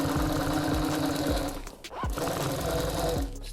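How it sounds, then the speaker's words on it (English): Sewing machine stitching car seat upholstery, a fast, even mechanical chatter heard close up, pausing briefly midway before resuming at the same rhythmic pace. "Still sewing, still going."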